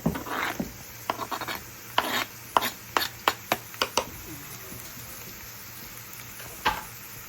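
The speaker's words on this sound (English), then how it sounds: "But right now we'll get the onions going" Onions frying in a pan for a breakfast hash: a soft sizzle with a run of sharp spatula scrapes and taps in the first few seconds, then a quieter stretch and one last scrape.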